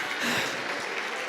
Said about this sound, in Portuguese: Aplauda dando glória